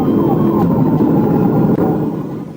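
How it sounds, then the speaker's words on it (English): Police car siren wailing during a highway chase with a Kia speeding past 100 mph in traffic, a steady loud siren tone over road and engine noise throughout. "Sirens screamed behind it, but the driver refused to yield"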